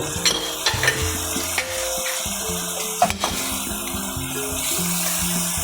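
Pineapple chunks tossed into a pan of frying chicken with bell pepper give a steady, close sizzle with stirring scrapes throughout, over a sustained tonal background.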